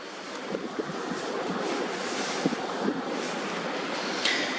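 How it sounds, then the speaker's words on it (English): Tidal bore surging in at a river mouth, a steady broad wash of rushing water and surf with gusting wind across the microphone, a few brief splashes standing out near the end. "this is where we're getting the tidal bore"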